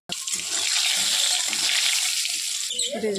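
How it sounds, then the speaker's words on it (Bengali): Potato pieces coated with salt and turmeric fry in hot oil in a wok, a loud continuous close sizzle starting abruptly, with a voice briefly entering near the end. "আলুটাকে লাল লাল করে ভেজে"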